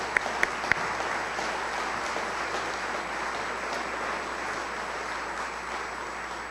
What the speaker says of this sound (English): Can we give all these a nice warm round of applause?